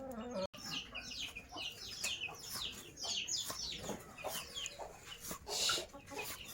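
Chickens clucking and chirping close by in a rural yard, a busy, continuous stream of short calls with a brief dropout early on.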